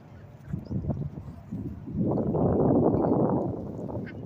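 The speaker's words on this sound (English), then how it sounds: "And all that noise you hear is the white duck." A white duck honks and quacks in a loud, rising burst of overlapping calls, close by and growing denser toward the end.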